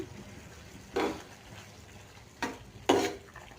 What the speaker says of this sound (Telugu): ఇప్పుడు ఉడికించిన శనగపప్పును ఇందులో వేసి కలుపుకుందాము